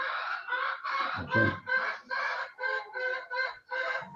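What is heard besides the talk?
chickens clucking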